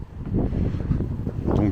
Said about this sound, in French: il y a du vent, je suis pas sûr qu'on va entendre